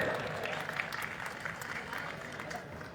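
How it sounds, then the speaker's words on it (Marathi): Crowd applauding to welcome officials at the opening ceremony of a district council employees' divisional sports meet in Akola, a steady, dense clapping held at moderate level throughout with a faint mix of crowd noise. "जोरदार एकदा टाळ्या आपल्याला वाजवायच्या आहेत"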